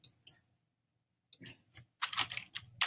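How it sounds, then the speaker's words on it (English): Keys clicking on a computer keyboard while a link is entered, a few short bursts of close taps separated by pauses, with no voice. "Let's say I wanted to type in an affiliate link for ShareTribe"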